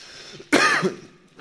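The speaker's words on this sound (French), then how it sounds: "j'arrête pas de tousser, c'est grave" A single harsh, close cough bursts out, throaty and brief, with quiet room sound before and after.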